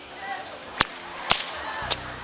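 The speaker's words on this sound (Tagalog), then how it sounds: "Unang event ng mga estudyante ang bullwhipping." Bullwhip cracks at a student bullwhipping contest in a Masbate arena, three sharp, loud cracks spaced about half a second to a second apart against a light outdoor background.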